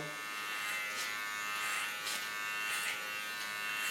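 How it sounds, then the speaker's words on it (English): A small electric hair clipper trims the fine hairs along a neckline, giving a steady, soft, high buzz that holds evenly throughout with slight rises as the blade meets hair. "Now the underlines I do with a small clipper."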